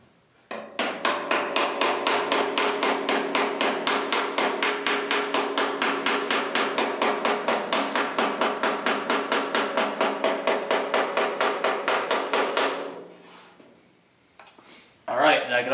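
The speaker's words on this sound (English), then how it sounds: "It's just light little taps, especially when we're using the pick end, because we don't want to do damage." The pick end of a hammer taps along a weld seam on Ford sheet metal, raising low spots. The taps come in a steady, rapid, close-up run of sharp metallic hits for about twelve seconds, then stop.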